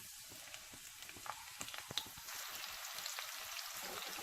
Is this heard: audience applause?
no